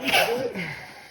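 A single sharp sneeze bursts out close by, followed by a brief trailing exhale.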